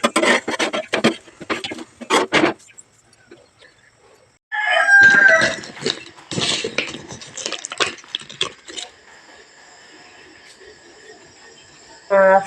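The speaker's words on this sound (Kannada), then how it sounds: "ಇವಾಗ ಹಸ್ಬೆಂಡು ಸ್ವಲ್ಪ ಕೋಳಿಗೆ ಮೇವನ್ನ ಹಾಕ್ತಾಯಿದ್ರು" Backyard chickens being fed, with a rooster crowing and hens clucking in bursts, broken by quiet gaps, then a thin steady insect-like trill toward the end.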